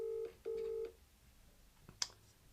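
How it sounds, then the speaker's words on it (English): Two steady electronic tones sound in a row, like a phone ringing on the line, followed by a faint click and a short sharp tap. "Yeah, ringing him."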